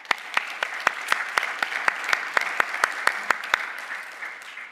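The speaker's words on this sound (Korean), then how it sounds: "하나님께 영광의 박수를 올려드리겠습니다." A church congregation at a Sunday worship service claps in unison, with sharp, evenly spaced beats about four per second over a softer bed of scattered applause that fades near the end.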